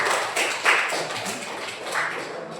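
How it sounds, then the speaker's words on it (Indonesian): An audience at a school counselling training session claps in a short, bright burst, with a sharper swell near the start and another rise toward the end. "Beri tepuk tangan dulu."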